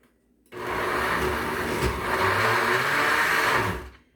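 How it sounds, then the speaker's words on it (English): A brand-new countertop blender whirs loudly, blending a blueberry kale smoothie; the motor kicks in after a brief quiet start, runs steadily for about three seconds with a slight surge midway, then cuts off. "Okay, so we're going to turn this on. This is brand new, this machine, so bear with me."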